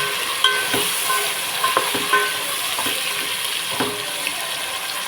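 Onions tossed into a hot pan for a paneer biryani and chicken curry sizzle steadily, with a few close scraping stirs and clinks of the spoon against the pan, no voices.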